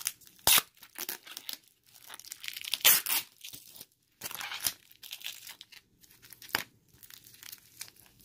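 Tape being torn and peeled off a phone shipping package, in loud ripping bursts with crinkling packaging between them, close up and with no talking.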